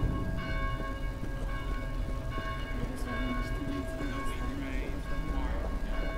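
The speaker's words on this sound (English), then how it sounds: "Maybe you can figure out how to silence those blasted bells." Church bells ring steadily in a video game belfry scene, their repeated tolling sustained throughout against a dense background of ambient game noise, with faint overlapping tones.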